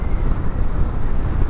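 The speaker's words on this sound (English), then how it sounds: "every time I go out and do a range test, it just gets windy like crazy" Strong wind buffets the microphone while riding a NAXEON I AM Pro electric motorcycle, a loud continuous low rumble with gusty fluctuations and no other clear sound.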